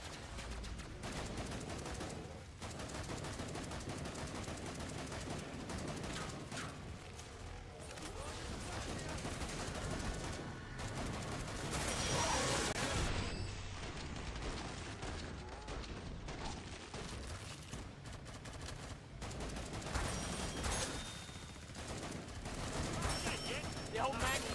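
Gunfire in the video game Killing Floor 2, rapid bursts and sustained automatic fire crackling over a loud, busy battle soundscape, with voices speaking intermittently throughout.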